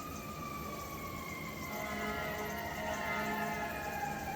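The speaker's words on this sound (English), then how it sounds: "if you're hearing the sirens, this is every day in Chicago." Emergency sirens wail steadily over a constant background roar of city traffic in Chicago, with rising and falling tones that grow a bit louder toward the end.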